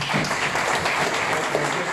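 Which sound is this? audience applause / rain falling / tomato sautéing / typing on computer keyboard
audience applause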